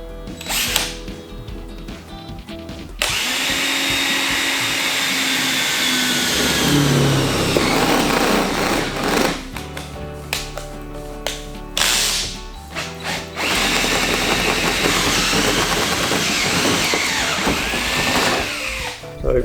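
A power drill bores a hole through a mount for JDM police car lights, its whine rising and dropping in several close, loud bursts separated by brief pauses and handling clatter.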